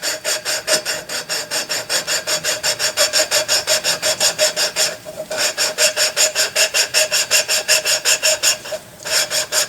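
Abrasive compound is rubbed back and forth on a part during restoration of a Fairbanks 3HP Z engine, making a steady, rhythmic rasping stroke close up, with two brief pauses.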